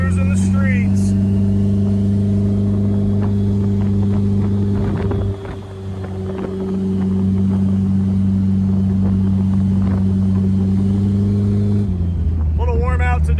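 A car rolls along city streets on cruise control, its engine holding a steady low hum with a constant drone, close and even. A brief dip comes midway, and shifting noise near the end suggests a change in engine load.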